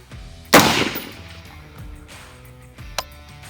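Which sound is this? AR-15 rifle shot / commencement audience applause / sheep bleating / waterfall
AR-15 rifle shot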